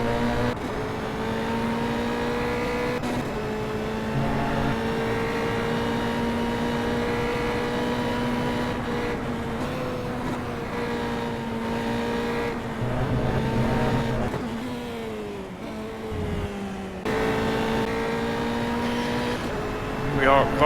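A Formula 3 race car in a racing video game laps Interlagos with a 30+ car grid, its engine holding a steady high whine that dips and climbs through the gears, while a commentator talks over it.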